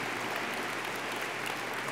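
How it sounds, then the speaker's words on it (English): Applause from an event audience honoring a longtime head of a Chilean conservation team, a steady dense wash of clapping filling the whole moment without a break, fairly distant and even in level. "I think we should also give an applause to Carolina Morgado, who's been the head of"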